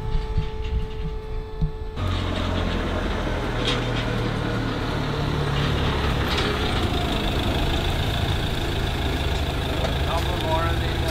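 A metal cattle crush being towed onto a farm rattles and clanks over the low, steady rumble of an idling engine that starts abruptly after a quieter opening, holding close and loud to the end.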